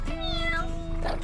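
A single drawn-out cat meow, close and clear, with a short second mew at the end.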